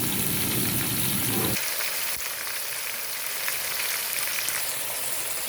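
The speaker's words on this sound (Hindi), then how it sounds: "इसे हम 4 से 5 मिनट तक फ्राई करेंगे।" Chicken karahi masala frying in a pan for a Lahori restaurant-style recipe, giving a steady, close hiss that continues on its own with no talking.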